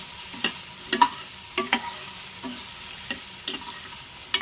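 A spatula stirs and mixes in a frying pan for poha with potatoes and tomatoes, making repeated sharp scrapes and taps at an uneven rhythm over a soft, steady sizzle, close by.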